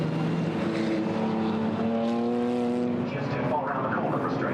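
GT4 race cars at Brands Hatch roar past on the circuit behind a safety car, a steady loud engine drone with rising and falling pitch as the field funnels over the line, under a commentator's voice.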